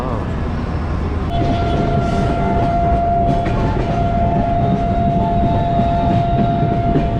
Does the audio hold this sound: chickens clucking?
no